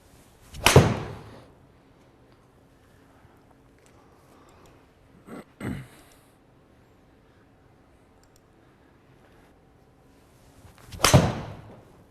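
Golf 7-iron striking a firm Titleist Pro V1x-style ball, three sharp isolated impacts spaced several seconds apart, crisp and fairly soft-sounding in a quiet setting.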